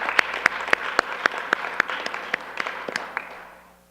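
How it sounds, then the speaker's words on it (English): A handful of people clapping at a town council meeting, sharp distinct claps in a loose rhythm that thin out and fade to quiet near the end. "I think they deserve a round of applause for just doing that"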